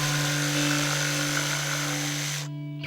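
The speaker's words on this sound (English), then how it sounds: "So I have to sand all this surface to the point that everything is all flat." A power sander runs loud and steady against the flat wooden surface of a DIY chicken coop, with a constant motor hum and whine that cuts off abruptly near the end.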